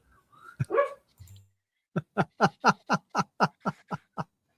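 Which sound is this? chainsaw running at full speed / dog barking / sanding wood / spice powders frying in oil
dog barking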